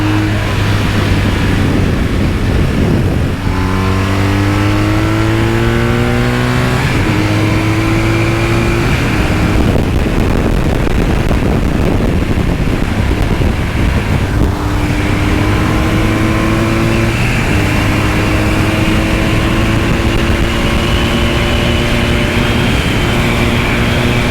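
A BMW R 1250 RT touring motorcycle accelerates hard on the road, its engine pitch climbing and dropping through repeated gear shifts. Loud, constant wind rush runs under the engine the whole time.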